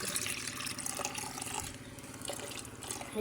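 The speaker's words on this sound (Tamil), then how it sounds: "பியூரான தண்ணி எடுத்துக்கிறோம்." Pure water runs and pours steadily for a small home temple abhishekam offering to Shiva, a continuous splashing flow that is close and fairly even throughout, with no talking.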